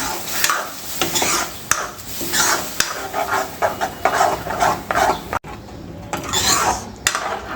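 Coconut, green chilli and coriander paste dropped into hot oil tempering sizzles loudly while a spoon scrapes and stirs against the pan, with occasional clinks of metal.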